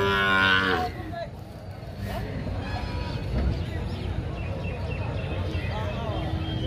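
Calves lowing at a cattle market in the Javadhu hills area of Tamil Nadu, with a loud close moo at the start followed by busy crowd noise, shuffling and more distant mooing.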